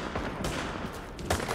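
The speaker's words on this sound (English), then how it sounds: "we're gonna pretend we didn't hear all the gunshots" Rapid bursts of gunfire from a firefight in the video game The Division at a Hudson refugee camp, a dense fusillade with sharp cracks that peak near the end, loud and continuous with no talk.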